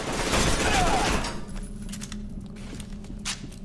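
Gunfire in the video game F.E.A.R. 2, a dense burst of shots and clatter at the start that fades into scattered lighter mechanical clicks and rattles.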